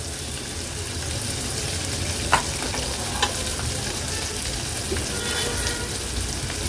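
Chopped onion fries in a kadhai with curry leaves and asafoetida, making a loud, continuous sizzle with a couple of short clinks from stirring, close up and without talk.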